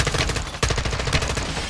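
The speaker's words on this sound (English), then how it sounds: "This gun has a lot of recoil." Rapid automatic gunfire from a heavily recoiling gun in Call of Duty: Modern Warfare II. Loud, close bursts of shots crack in a fast, even rhythm with a brief break partway through, and no voices over it.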